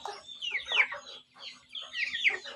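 Chickens clucking and squawking up close on a farm, with two drawn-out, rising cackling calls separated by a short pause.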